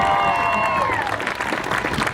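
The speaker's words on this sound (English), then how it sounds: "you send them a shout out of applause" A graduation audience bursts into applause at a high school ceremony, dense clapping with some cheering that swells, then tails off while a faint tone fades beneath it, with no clear speech.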